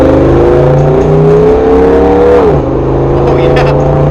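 A loud V8 engine in an LS-swapped Jeep Wrangler revs up with a deep, throaty growl, pitch climbing steadily then dropping back to a rumbling idle, close and continuous.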